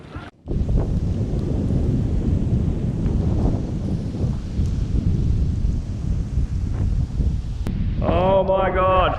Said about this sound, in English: That storm has definitely set in now.